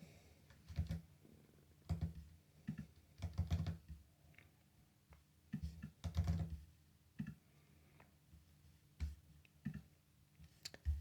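Keys on a computer keyboard are typed in short, irregular bursts of soft clicks while a password is entered, quiet and close with pauses between groups of keystrokes.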